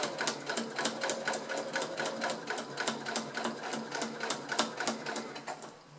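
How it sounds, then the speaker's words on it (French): A sewing machine stitches a seam on a velvet handbag, a rapid regular train of mechanical clicks and whirring at close range, quiet and steady throughout. "On fait notre couture à 5 mm du bord."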